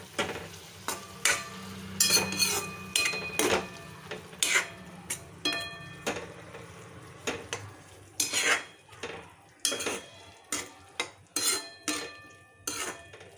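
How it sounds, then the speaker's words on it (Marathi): Onion paste being sautéed in a pan for drumsticks in coconut milk: sharp metallic clinks and scrapes of a spatula against the pan in an irregular stirring rhythm over a soft sizzle, close by, no talking. "कांद्याची पेस्ट ॲड करणार आहोत। आणि हे देखील त्याच्यामध्ये परतून घ्यायचे आहे।"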